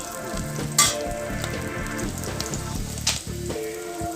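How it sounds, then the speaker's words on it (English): Onions browning in a pan for an Indian-style meatball curry, a steady close sizzle with a couple of sharper spits and pops, heard under background music with no talk. "Alright, my onions are nicely browning now."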